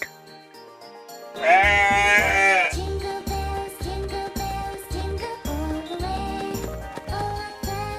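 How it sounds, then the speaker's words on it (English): A goat in a children's English learning cartoon gives a single wavering bleat, played over a bouncy musical backing with a steady rhythmic beat. "goat"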